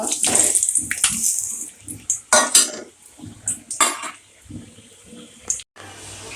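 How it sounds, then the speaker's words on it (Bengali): Hot water splashes and pours into a metal pot of fried potatoes for kacchi biryani in uneven bursts, with clinks of cookware and a voice speaking softly in between. "এখানে গরম পানি দিলাম"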